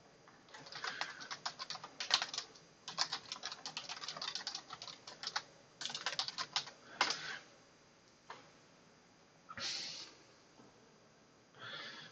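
Quiet bursts of rapid clicking come from typing on a computer keyboard, heard close in irregular runs separated by short pauses.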